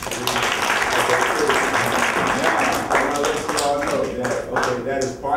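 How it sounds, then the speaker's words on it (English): At a youth event, an audience claps in a dense round of applause that grows sharper and more scattered toward the end, with a voice talking over it. "About a round of applause."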